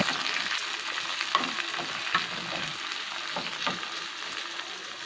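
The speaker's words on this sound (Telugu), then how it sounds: "అలాగే ఇప్పుడు ఉల్లిపాయలు వేసుకుంటున్నాము." Onion and green chilli frying in a pan with garlic for kakarakaya pulusu, giving a steady hissing sizzle broken by soft scraping strokes of stirring, with no voices.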